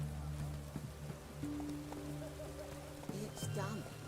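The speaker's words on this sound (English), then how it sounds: "It's raining, of course it's going to be damp." Rain falls in the fantasy video game The Witcher 3, a soft steady patter beneath game music tones and faint character voices, moderately quiet and continuous.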